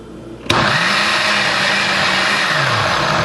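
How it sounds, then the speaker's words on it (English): A countertop blender whirs loudly as it starts up and blends beans with water for Cameroon-style koki, a steady continuous motor roar that holds evenly close by with no talking. "and begin blending"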